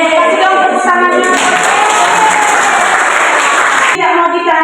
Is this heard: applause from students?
yes